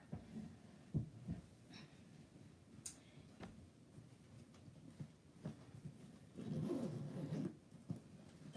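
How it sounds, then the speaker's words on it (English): The zipper on a Love 41 large duffle bag (Boston Satchel) is pulled in quiet, smooth runs, with soft rustles and handling thumps in between and a longer zipping stretch near the end. "smooth zipper."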